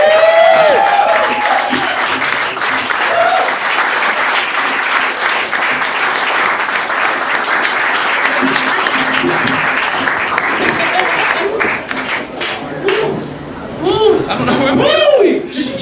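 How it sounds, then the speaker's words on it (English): An audience at The Pleasure Bar applauds a live performer with sustained clapping and cheering, a host's voice speaking over it along with scattered whoops and laughter as the applause tapers. "Round of applause, yeah."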